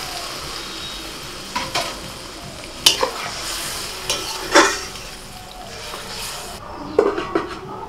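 Vegetable stems cooked down with spices in a pan sizzle steadily while a spoon scrapes and clinks against the metal, with several louder stirring knocks and a brief hiss as a little water goes in.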